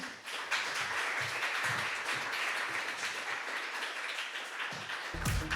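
An audience applauding a Slovenska nota 2020 finalist at a public announcement, steady moderately loud clapping throughout, ending with a brief low thump.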